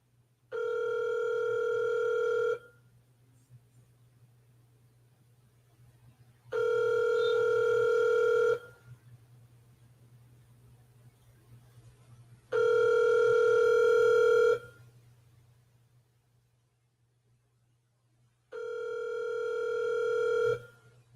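A telephone ringback tone sounds as a steady buzzing tone in four long bursts of about two seconds each, spaced by roughly four-second gaps over a low background hum, with no one speaking.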